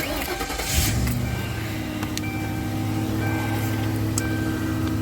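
A Ford Crown Victoria P71 police interceptor cranks and fires up close by, then settles into a steady, low idle hum with faint electronic tones over it.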